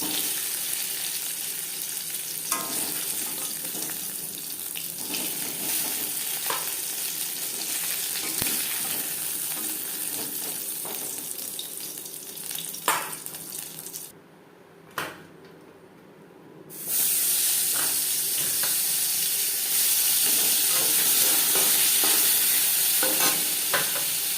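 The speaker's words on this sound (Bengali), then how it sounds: "মাছ আমি হালকা করেই ভেজে নিয়েছি একটা পাত্রে" Shing fish frying in a pan with oil, a steady close sizzle with occasional stirring and scraping, briefly dipping quieter midway before the frying hiss returns strongly.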